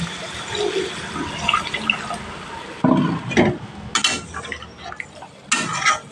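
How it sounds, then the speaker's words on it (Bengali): Water pours and splashes steadily into a pan of Bengali boal fish curry, a continuous rushing gush with a few sharp metallic clinks of the pot, loud and close with no talking. "এখানে অল্প পরিমাণ জল অ্যাড করব পরিমাণ মতো জল দিয়ে দেবো"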